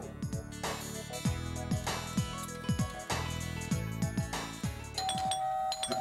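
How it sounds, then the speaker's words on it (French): A doorbell rings in a home, its electronic chime sounding repeatedly in a rhythmic melodic pattern, fairly close and clear with no talk over it. "Excusez-moi, c'est la sonnette."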